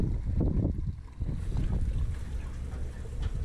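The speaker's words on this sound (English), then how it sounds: "First time putting gas in this tank." A low, continuous gurgling rush of gasoline being poured into the fuel tank of a 1984 Ford LTD Crown Victoria, close to the microphone with some breezy rumble.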